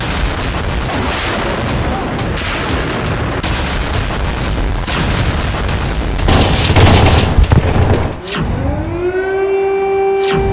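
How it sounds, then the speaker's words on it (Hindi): Loud booms and bursts of blasting fill most of the stretch around the Gaza Strip, then a wailing air raid siren rises and holds its tone near the end. "गाजा पट्टी के आसपास के इलाकों में एक बार फिर सायरन बजने लगे।"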